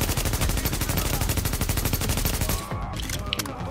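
Enemy gunfire in The Division video game: a loud, rapid, unbroken machine-gun stream of close shots that stops abruptly, leaving a quieter tail of scattered noise and clicks.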